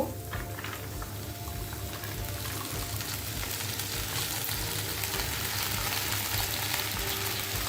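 Kolmi shak greens going into a pan of softened onions, a steady sizzle and bubbling fry that holds evenly throughout without any talking.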